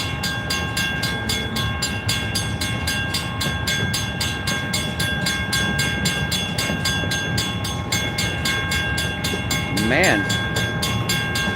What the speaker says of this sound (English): I can't believe it's such a long train.